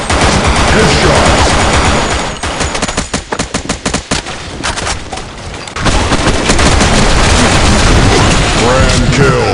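Loud rapid automatic weapon fire rips through a BlackShot video game match on the Lost Temple map, with dense bursts of shots, booms and a brief choppy stretch mid-way.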